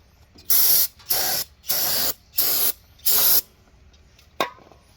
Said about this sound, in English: we're going to clean up this surface really good with a brake cleaner or something like that